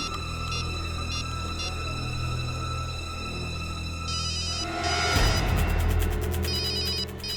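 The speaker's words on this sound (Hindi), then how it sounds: "फोन की आवाज तो यहीं कहीं से आ रही।" A telephone rings with repeated electronic trills in a scene from a Hindi horror TV show. It sounds over a steady hum and grows louder and denser toward the end.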